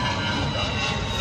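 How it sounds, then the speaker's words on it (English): An airplane passes overhead with a steady, moderately loud jet roar, heard outdoors near a 1956 Ford Thunderbird with no talking. "Oh gosh, the planes."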